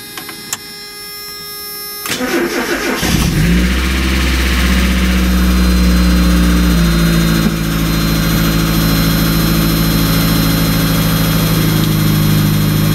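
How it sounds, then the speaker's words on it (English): A first-generation Mazda Miata engine cranks and catches, then idles high and steady and loud and close, with a persistent ticking lifter noise running through the idle and no talking. "That lifter noise is like the bane of every first-gen Miata owner."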